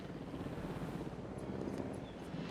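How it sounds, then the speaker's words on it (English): A transport helicopter flies in the video game Jurassic World Evolution, giving a steady, broad rotor and engine roar that holds at an even level throughout. "Get the transport chopper ready."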